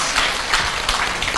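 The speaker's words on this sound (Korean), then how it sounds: "박수 한번 부탁드리겠습니다" An audience at a gum health talk concert applauding, with dense, steady clapping from a crowd throughout the short stretch.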